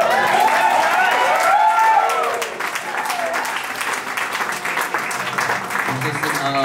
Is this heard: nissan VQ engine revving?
no